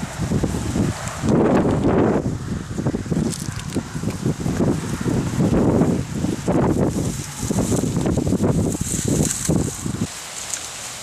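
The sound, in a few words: wind blowing outdoors in a field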